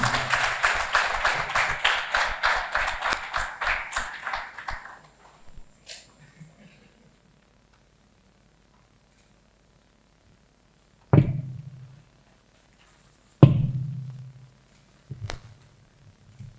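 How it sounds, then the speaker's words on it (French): An audience at a Canada–Benin economic diaspora forum gives the speaker sustained welcoming applause that swells, then thins out and fades over about five seconds. After a silence, a few isolated thumps follow. "Applaudissements bien nourris."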